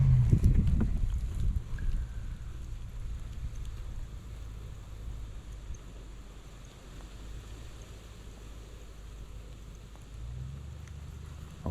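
Low, steady wind rumbles across a lake around a fishing boat, buffeting the microphone with a stronger gust at the start and another near the end, with no voices.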